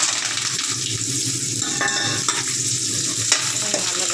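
Mustard seeds, cumin, shallots, garlic and curry leaves frying in oil, a continuous close sizzle with stirring scrapes and a few clinks of the spoon against the pan, no talking.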